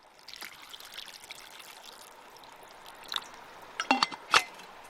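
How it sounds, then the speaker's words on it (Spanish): Water trickles and pours over dried fruits in a kitchen bowl, a soft, faint stream with a few brighter splashes near the end. "hidratar los frutos deshidratados con un poco de agua"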